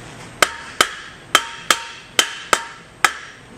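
Seven sharp metallic taps spaced evenly about a half second apart as the shaft seal housing of a Munro LP1500 pump is tapped back together, close and crisp with no talking.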